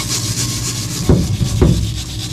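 A brush scrubbing dirt off an engine part near an oil pan, a steady close rasping rub with two heavier strokes midway, no talk.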